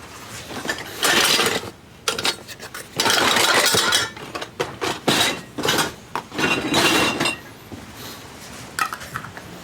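Metal lids are fitted and screwed onto glass jars of s'mores moonshine, producing close bursts of clinking, scraping and rattling with short pauses between handling sounds.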